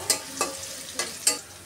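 Onion and green chili frying in hot oil in a wok for a long bean bhaji, with a soft steady sizzle broken by four sharp stirring scrapes close by.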